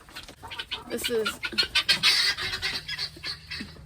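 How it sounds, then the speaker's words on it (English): Guinea fowl calling in a backyard poultry yard among chickens, a series of harsh, rapid cackling bursts close by, mixed with other bird noise. "That's the guineas."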